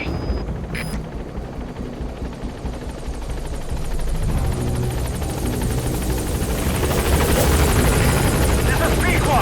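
In Metal Gear Solid V, a support helicopter approaches a landing zone with a steady rotor thump that grows louder and closer while a voice speaks.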